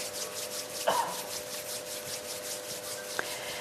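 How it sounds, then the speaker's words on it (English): Palms of the hands gently rubbing together in steady, rhythmic back-and-forth strokes, a soft close swishing friction repeated about a dozen times, with a light tap partway through and no talking. "just gently rub the palms of the hands against each other"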